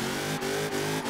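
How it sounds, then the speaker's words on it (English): A Chevy Camaro ZL1 1LE's V8 engine in Forza Horizon 4 holds a loud, buzzing high-rev note, cut by brief dips at each of three quick gear shifts or throttle lifts. "This V8 sounds tremendous."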